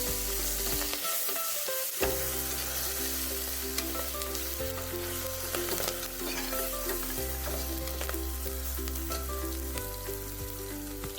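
Chicken gravy ingredients with curry leaves, coriander and mint sautéing in a pan, a steady close sizzle with scattered stirring clicks and scrapes throughout.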